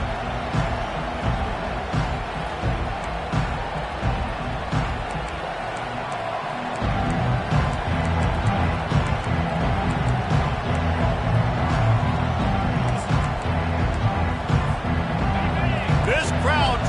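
A college football stadium crowd roars in a steady, dense wash of cheering that swells louder partway through, with a commentator talking over it.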